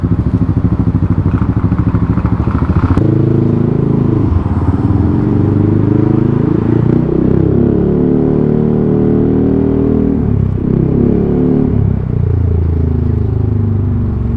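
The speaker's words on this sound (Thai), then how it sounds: "เร่งเครื่องใส่หนึ่งที" A Yamaha X-Max 300 scooter with a GP racing exhaust revs loudly and repeatedly, its harsh exhaust rising and falling in pitch, close and continuous with no talking.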